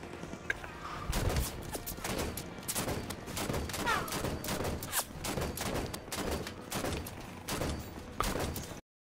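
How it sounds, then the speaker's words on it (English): In the Halo 5 campaign, weapons fire at a Warthog vehicle as rapid bursts of gunfire, with sharp shots repeating almost without pause under game noise. "I'm gonna shoot that warthog"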